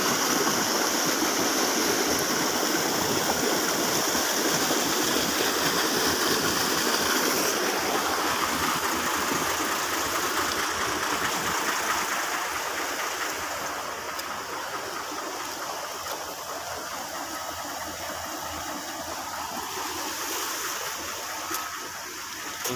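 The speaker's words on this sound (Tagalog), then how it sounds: "Lumakas ang tubig dito," Strong stream of water rushing across a washed-out road detour, a loud, continuous roar of flowing water throughout, steady and close with no talk.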